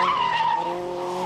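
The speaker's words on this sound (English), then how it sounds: "second place man Chris Paul had virtually two wheels locked up under braking" A Formula Ford race car skids with wheels locked under braking, a loud, steady tyre squeal holding a high pitch and sliding slightly downward over a little more than a second, with engine hum beneath.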